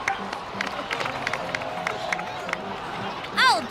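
Crowd cheers and applauds honored heroes in a fantasy video game scene, dense clapping and hubbub under game music, with a brief bright chime near the end.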